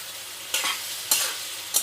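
Onion and mango, seasoned with turmeric, stirred and sautéed in a pan for a sour-spicy Bengali rohu fish dish: three distinct scraping stir strokes over a faint, steady sizzle, with no talking.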